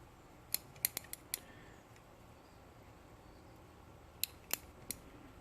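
Pruning shears snipping lemon cypress branches outdoors, a few sharp crisp clicks in a quick cluster, a pause, then a few more snips, close but fairly quiet against a faint ambient background.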